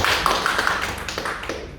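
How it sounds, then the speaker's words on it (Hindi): Audience applause at a work-at-height and full-body harness safety training session for a maintenance team: a short burst of close, dense hand clapping, steady and loud throughout. "इसके लिए जोर से ताली हो जाए"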